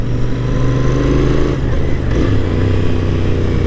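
A 2024 Royal Enfield Interceptor 650 engine revs loudly up close, a continuous throaty motorcycle roar with slight shifts in pitch throughout.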